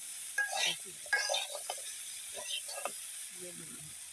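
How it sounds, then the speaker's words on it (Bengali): A papaya vegetable curry is being sautéed in a pan, heard as short, quiet bursts of stirring and soft sizzling scrapes separated by gaps, with a faint constant hiss underneath. "আমাদের সবজি কষানো প্রায় শেষের দিকে।"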